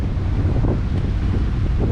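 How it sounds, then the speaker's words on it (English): Wind gusts steadily against the microphone beside the ocean near Cumberland Island, where the tide is running out fast and the water is stirred up. A low rush of surf sits under the continuous roar. "There's the ocean over there. Tide's ripping out. The wind's not exactly against it, but the water's a little stirred up."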